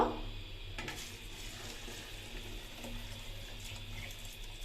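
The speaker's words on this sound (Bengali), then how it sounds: "আমি এখন পানিটা ঢেলে দিব।" Water poured from a measuring container into a pot of chicken biryani with rice and meat, giving a steady, close splashing and trickling pour that runs the whole time with no talk.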